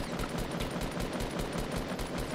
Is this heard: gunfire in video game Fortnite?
yes